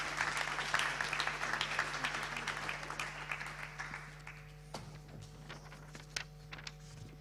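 An audience claps at the Veneto Paralympic sports awards gala of 2022, a burst of dense applause that thins into scattered, fading claps.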